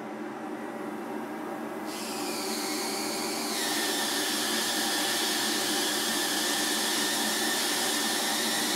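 A PD-500 high-voltage supply builds up as its voltage is dialed up, a steady loud hiss and hum that brightens and climbs in two distinct steps before holding level, with no talking.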